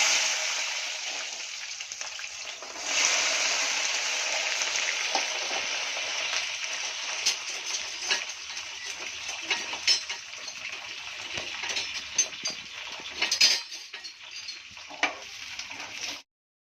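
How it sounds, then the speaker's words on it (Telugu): Amla (Indian gooseberry) pickle mixture being added slowly to hot oil, giving a loud, steady broadband sizzle and frying hiss that swells after a few seconds and carries on throughout, with light stirring and utensil clinks. "ఇది స్లోగా వేసుకోవాలి, మీద జిల్తుంది ఆయిల్"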